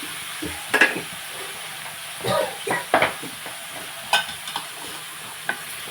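Brinjal and mango curry stirred in a pan: irregular scraping and clinking strokes over a soft oily sizzle, close by, with no clear talking.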